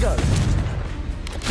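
A Confringo blasting spell from Hogwarts Legacy goes off as a dense, booming burst with low rumbling thuds filling the whole moment, loud and close, with a sharper crack near the end.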